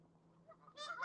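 Geese honk during nesting season outdoors in Ohio, a faint low hum first and then a loud, close burst of honking at the end.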